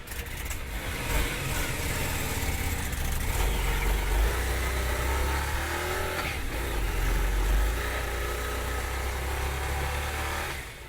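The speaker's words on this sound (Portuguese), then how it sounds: "por causa do som inconfundível do motor" A Harley-Davidson motorcycle engine runs with a deep, continuous rumble, the revs swelling and easing a couple of times, close and fairly loud.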